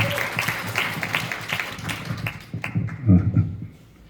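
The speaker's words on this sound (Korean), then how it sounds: "여러분 박수 부탁드리겠습니다" Audience clapping at a quantum fryer and bio-water launch event, a broad wash of applause filling the room for several seconds before fading out.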